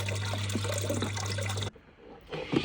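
Water runs steadily through a gold-prospecting cleanup sluice fed with black sands, a broad continuous wash that cuts off abruptly partway through, leaving a quieter trickle that swells again near the end.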